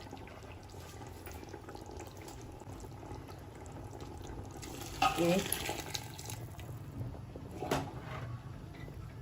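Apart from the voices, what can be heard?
hot water poured from a lota into mutton tahari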